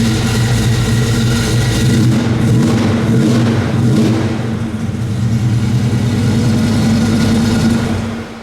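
A 1970 Chevrolet El Camino SS 396 restomod idles loud and close, its big-block V8 giving a steady, deep rumbling burble with a slight swell in revs partway through.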